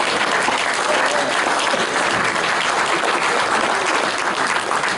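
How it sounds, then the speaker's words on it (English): Audience applause at a Gaston Hospice gathering, steady dense clapping from a full room, loud and sustained for several seconds without letup. "Oh, give yourselves a big round of applause."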